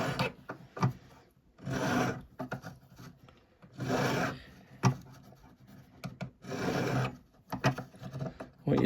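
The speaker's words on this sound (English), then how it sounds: "Now just going to run around with the flat file." A flat file is worked around the outside of a metal bangle to smooth it, making close, rasping strokes in a steady back-and-forth rhythm with short pauses between passes.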